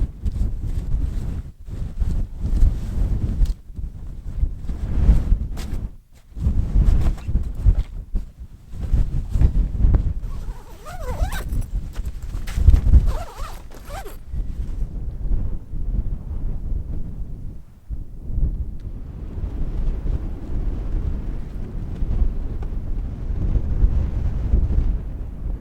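Cold winter wind buffets the microphone on a wet, snowy mountainside, a steady low roar with heavy gusts and rumbles that ease toward the end into a softer, hissing blow.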